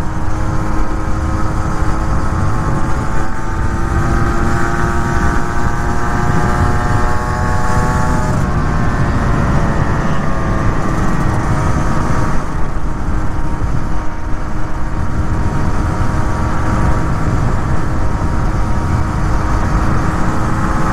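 A rebuilt Yamaha DTX 125 motorcycle engine running steadily, its buzzing two-stroke tone rising and falling with gentle revs, close and loud without pause for about twenty seconds.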